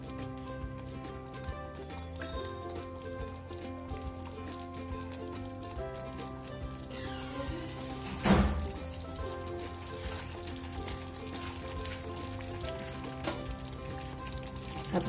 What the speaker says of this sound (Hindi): पनीर को भी ग्रेवी में 2 से 3 मिनट तक कुक करेंगे